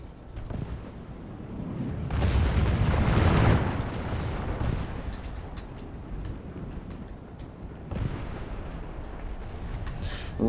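Musket volleys crack and boom through a Medieval 2 pike-and-shot battle, with a dense, rumbling swell of gunfire and the roar of massed troops peaking early and again later.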